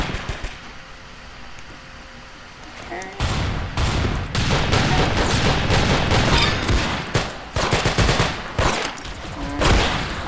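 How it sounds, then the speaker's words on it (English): A pepper gun in the Roblox game Arsenal fires rapidly, a dense run of loud close gunshot bursts that begins abruptly after a few quieter seconds and carries on in quick clusters to the end. "that pepper gun, if you're trying to shoot fast, like this"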